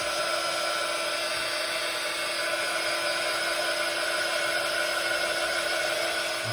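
Heat tool blowing steadily over a craft glaze to dry it, a constant whirring, whining hum with no change in level, close and alone without speech.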